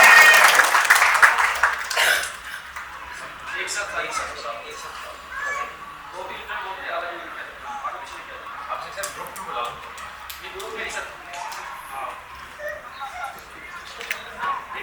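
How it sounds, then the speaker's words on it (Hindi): A loud burst of audience applause greets a student at an academy's success celebration, then fades after a couple of seconds into scattered claps, murmuring and children's voices in a busy hall. "बहुत जोरदार तालियों के साथ में स्वागत है भैया"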